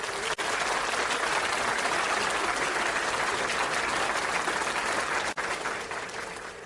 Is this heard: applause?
yes